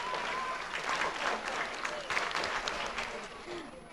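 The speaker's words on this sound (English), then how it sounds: "Claps, go." Loud audience clapping at a school event, a continuous crowd applause with some voices mixed in throughout.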